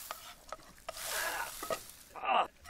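Sims cooking in The Sims 4 on Xbox One: soft stirring and scraping with a sizzling, frying texture, a few light utensil taps, and a louder burst of sizzle near the end, all without speech.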